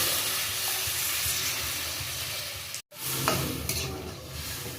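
Water is poured into a pan of sizzling jackfruit and potato masala. A steady frying hiss runs throughout, broken by a brief gap, then swells again with louder bubbling and spattering. No one speaks.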